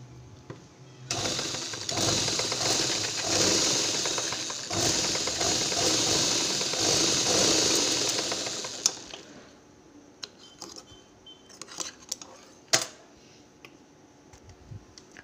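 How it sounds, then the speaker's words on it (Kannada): Sewing machine stitching a hook loop on a blouse, a steady fast mechanical whir running for about eight seconds, then stopping, followed by scattered clicks and handling noises. "ಯಾವ ಥರ ಹುಕ್ ಲೂಪ್ನ ಮಿಷನಿಂದ ಸ್ಟಿಚ್ ಮಾಡಿದ್ದೀನಿ ಅಂತ"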